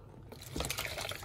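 Water is poured briefly and faintly into a home fish tank, a soft splashing trickle lasting about a second.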